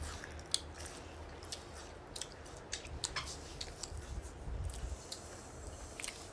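A child chews Indian gooseberry (amla) close to the mic, with soft, irregular crunching bites and squishy chewing over about six seconds and no talking.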